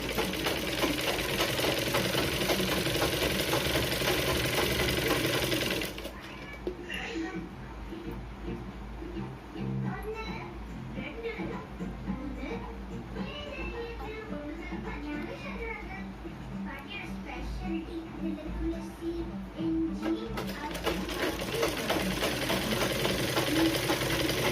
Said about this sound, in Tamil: தள்ளிடாமல் பொறுமையாக தைங்க. ஒரே அளவாக இருக்கட்டும்.